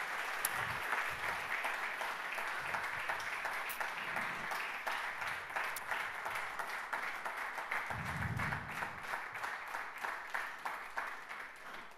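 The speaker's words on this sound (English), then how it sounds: "Big round of applause, Mark" A conference audience at an innovation event applauds steadily and fairly close, a dense wash of clapping that holds for the whole stretch, with a few low thumps and murmurs underneath.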